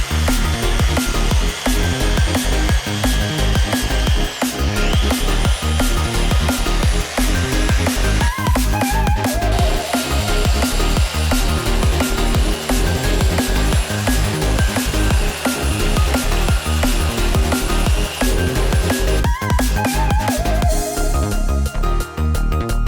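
A power polisher works over an OEM Nissan trim part, a steady loud continuous whir running the whole time with some tonal shifts as pressure changes, and no talking.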